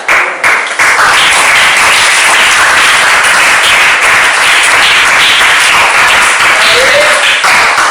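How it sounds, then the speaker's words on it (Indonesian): A classroom of students claps loudly for a classmate during an Indonesian language lesson, a close, continuous burst of applause after a brief pause, with some voices mixed in. "tepuk tangan untuk Mas Yazid ya"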